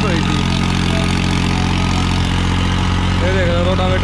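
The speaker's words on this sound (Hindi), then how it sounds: "रोटावेटर में 8 फुट के रोटावेटर में बिल्कुल गीली मिट्टी में चल रहा है" A New Holland 3630 tractor drives an 8-foot rotavator through wet field soil, its diesel engine droning loud and close in a steady low rumble, while a voice briefly cuts in near the end.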